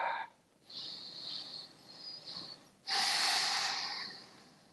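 Yoga breathing during a low-back care session, with soft airy inhales and exhales drawn slowly in a steady rhythm, close and gentle, the final breath fuller and louder than the rest; no talking.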